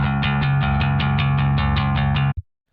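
A real bass guitar played through an amplifier produces a steady, full tone with evenly repeated plucked notes in a quick pulse, ending abruptly with a short final thump and then silence.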